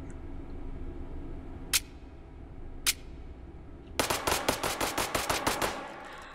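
Small-calibre .22 LR pistol shots in the VR shooter Hot Dogs, Horseshoes & Hand Grenades: two separate single shots, then a rapid run of about ten sharp cracks in quick succession, loud over a low background hum.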